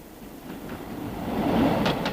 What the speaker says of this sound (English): The train is now bowling along in top gear.